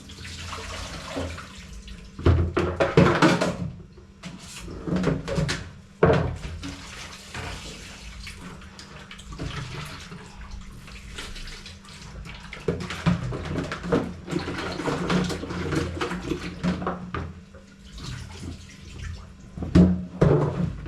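Water sloshes and splashes in a container as something is rubbed and rinsed by hand, with irregular swishes, drips and clatters, close by and fairly loud.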